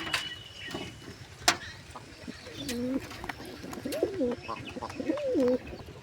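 Pigeons coo in soft, repeated rolling phrases, with sharp clacks and faint background noise around them.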